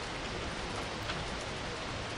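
Rain falls steadily on a field where a herd of horses, foals among them, stands grazing, a soft, even hiss of drops continuing throughout with no voices.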